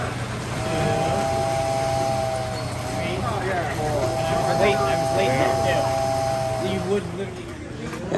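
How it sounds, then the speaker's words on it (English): Model trains run on display at the Great Midwest Train Show in Wheaton, Illinois, giving a steady mechanical hum and rumble with long whistle-like tones, under the loud murmur of a crowded hall. "the little kids were loving the trains that were on display and running."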